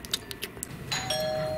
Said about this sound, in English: Oh, Elsa, that was the doorbell.